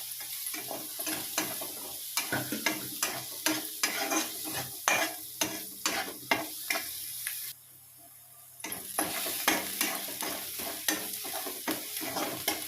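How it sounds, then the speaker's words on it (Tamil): Garlic is stirred and sautéed in a pan while cooking a lamb lung fry, with a steady sizzle under repeated scraping strokes of a spatula and a short quiet break midway. "அதையும் போட்டு நல்லா வதக்கி வச்சுக்கலாம்."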